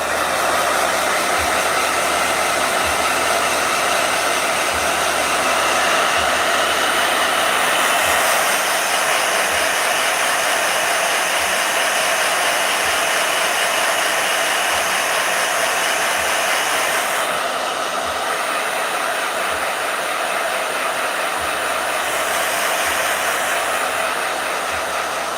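A blow dryer runs on hair in a steady, loud, unbroken whir that fills the whole stretch with no pause, its airflow hiss shifting only slightly in tone.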